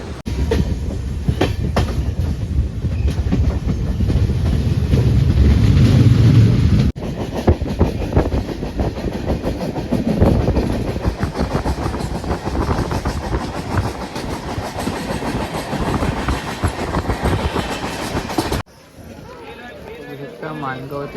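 Steady rumble and rhythmic clatter of a Mumbai-to-Konkan passenger train moving on its rails, heard from inside a crowded carriage with people talking throughout.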